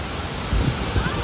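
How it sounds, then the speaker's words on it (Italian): A waterfall close enough that spray reaches climbers, a broad, constant roar of rushing water with wind buffeting the microphone and voices mixed in. "la cascata è talmente vicina che l'acqua arriva proprio"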